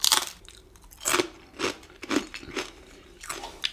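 Someone chews crunchy deep-fried fake bacon made from leftover starch, producing close, crisp crunches in irregular bursts every half second or so, with quiet gaps between bites.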